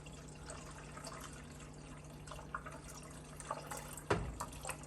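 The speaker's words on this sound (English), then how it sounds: "So I'm just going to put some water in there like so." Water splashes and trickles into a large 6-quart stock pot, with small drips and a louder gush near the end over a steady low hum.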